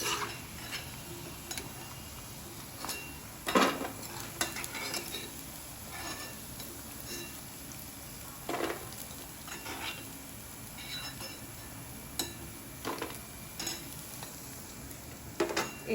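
Pieces of paneer masala sakkarpara made from wheat flour deep-fry in hot oil with a soft, steady sizzle. Occasional clinks and scrapes of a utensil against the pan come through, all quiet and close.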